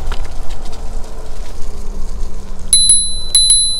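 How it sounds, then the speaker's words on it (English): Bell on an iScooter i9 MAX electric scooter rung outdoors while riding, two quick bright chimes near the end over steady wind and road rumble. "let's see if the bell works"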